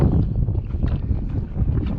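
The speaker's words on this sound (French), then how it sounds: "Je sais pas si vous entendez le vent, mais ça souffle à 50-60." Strong wind gusting around a fishing boat at sea, a loud, continuous low roar and buffeting against the microphone, with no voices over it.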